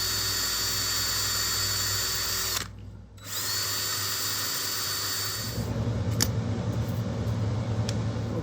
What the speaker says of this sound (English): there's our spring holes drilled